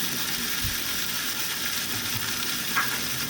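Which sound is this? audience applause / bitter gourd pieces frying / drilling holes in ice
bitter gourd pieces frying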